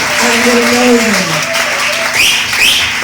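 A church congregation applauds and cheers for Jesus in a steady, loud swell of clapping, with a sustained voice ringing over the crowd.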